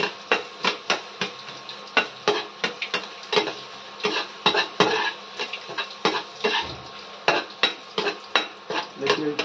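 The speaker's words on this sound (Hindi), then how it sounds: "देखिए प्याज भून रहे हैं अभी" Onions fried in a pan and stirred with a utensil: quick, rhythmic scraping and clinking strokes repeat steadily over a soft frying background, with no voices.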